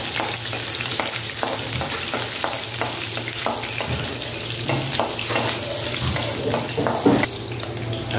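Garlic fries in cooking oil with a steady crackling sizzle, close and continuous, punctuated by soft scraping stirs and a brief clank near the end.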